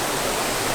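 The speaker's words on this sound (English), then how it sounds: "We call it the Grand Waterfall behind us there." Loud, steady broadband roar of a large waterfall heard close by, an unbroken rushing wash of falling water with no talk.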